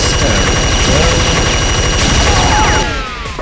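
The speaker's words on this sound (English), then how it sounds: "You have to remember that the minigun is essentially a hit-scan weapon." Rapid, continuous minigun fire in an Unreal multiplayer deathmatch, a loud dense rattle sustained for nearly three seconds before dropping off, with game effects underneath.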